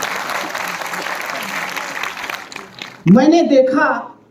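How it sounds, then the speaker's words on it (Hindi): Audience applause at a Hindi poetry recital in Delhi, a burst of clapping that fades out, followed by someone speaking over the quiet room. "एक बार ताली बजा दीजिए फिर मैं शुरू करता हूं।"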